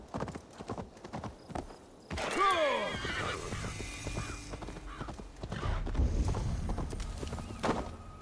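A horse in Assassin's Creed Valhalla gives one loud whinny that rises and falls, with hooves clip-clopping before and after it and a low rumble of game ambience underneath.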